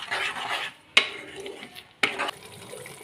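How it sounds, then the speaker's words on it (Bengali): Yogurt mushroom masala is stirred in a pan, soft bursts of sizzle and wet stirring, broken by two sharp clinks of a spoon against the metal, close and moderate. "এবার খুব ভালো করে কষে নেব যতক্ষণ পর্যন্ত না তেলটা আলাদা হয়ে যাচ্ছে।"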